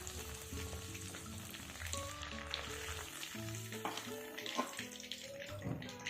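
Bread, potato and cheese patties fry in a kadai over a medium gas flame, giving a steady close sizzle that runs under prominent background music.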